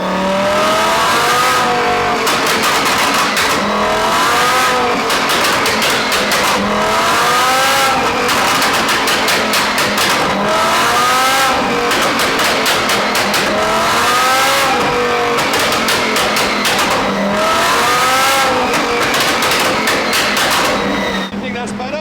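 A Lamborghini, wrapped in a custom finish, revs hard on a dynamometer for a tune check, its engine howling loud and close in repeated rising pulls with sharp gear-like steps, sustained throughout with voices faintly underneath.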